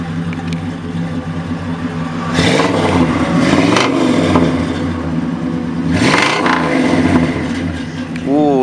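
A 1966 Buick LeSabre coupe with a 340 engine and straight-pipe exhaust idles with a lumpy rumble, then revs up twice in loud, rising bursts before settling back, up close with some talk in the background.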